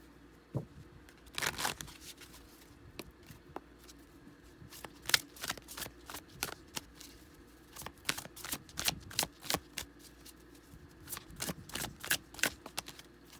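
A deck of tarot cards being shuffled close by, crisp riffling bursts and soft slaps repeating in quick clusters across a quiet room, with no talking.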